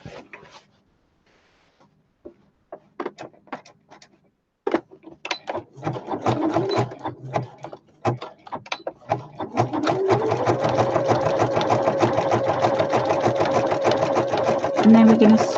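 A sewing machine stitching a country placemat, starting with scattered short bursts and clicks, then running in a steady mechanical whir that grows louder, with a person talking over it.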